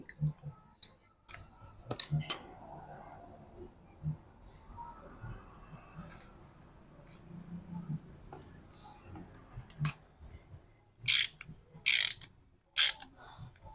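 A bolt tightened into the adapter on a Delphi AC compressor from a Chevrolet Opel Blazer, sparse metallic clicks, ratchet ticks and taps close by, with quiet gaps and a few brief hissy bursts near the end.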